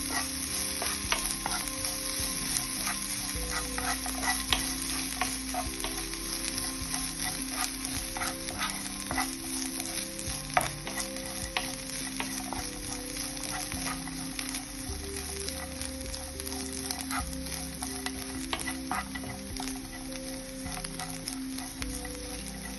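Grated coconut roasting lightly in a pan, a soft continuous sizzle with repeated scraping stirs over a low hum, fairly quiet and steady throughout.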